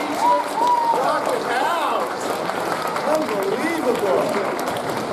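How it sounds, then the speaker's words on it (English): Steady audience applause fills a school assembly for staff and teachers, a dense continuous patter of many hands with voices talking and calling over it throughout. "big round of applause for our awesome staff, our awesome teachers."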